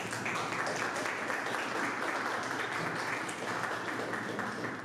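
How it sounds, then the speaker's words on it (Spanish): Audience applause for the organizers at a cultural panel discussion at the Alianza Francesa de Santo Domingo, a steady dense wash of many hands clapping throughout, moderately loud and sustained with no break. "quisiera empezar dándole un aplauso a ellos que lo hicieron posible"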